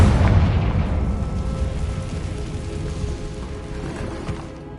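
A Confringo blasting spell explodes in Hogwarts Legacy, a heavy booming blast at the opening that rolls off into a long, gradually fading rumble with no voices.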